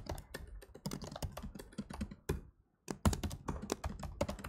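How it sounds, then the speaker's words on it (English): Fast typing on a computer keyboard while solving a coding problem, a dense run of close, crisp key clicks with one short pause before the tapping resumes. "I cannot type on this keyboard"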